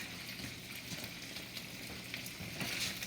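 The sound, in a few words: stirring drunken noodles frying in a pan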